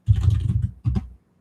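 Fingers tap a computer keyboard in quick, close bursts: a dense run of keystrokes, a short pause, a second flurry, then one more press at the end, with no voices.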